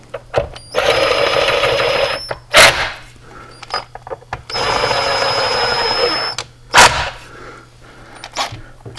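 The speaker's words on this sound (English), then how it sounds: "And the must for working on saws, little impact driver." A small impact driver whirs in two sustained bursts with sharp clacks between them, working on the screws of a Poulan 5200 Countervibe chainsaw, loud and close with no talk.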